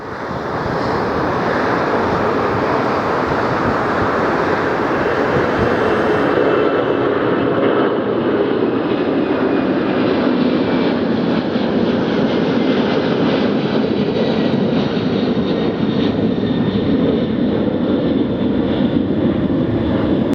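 A jet airliner roars loud and close as it takes off from LAX, a sustained broadband engine rumble with a high whine that holds steady for about twenty seconds and then shifts as the aircraft climbs away; no speech.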